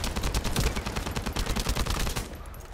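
Rapid automatic gunfire in the video game The First Descendant, a dense stream of shots at steady rhythm, close and fairly faint, ending abruptly near the close.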